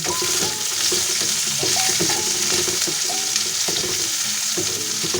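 Onion sautés in a pan for ginisang munggo, a loud steady sizzle of frying with scraping and knocking of a spatula stirring it throughout.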